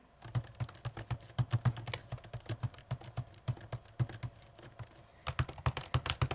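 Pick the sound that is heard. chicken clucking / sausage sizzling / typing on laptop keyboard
typing on laptop keyboard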